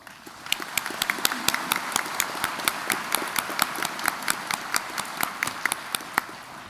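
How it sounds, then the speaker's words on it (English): Audience applause at a Kirtland Community College commencement, a moderately distant crowd clapping steadily, with one or two sharp, regular nearby claps punctuating the softer roomful of hands. "Let's give them applause."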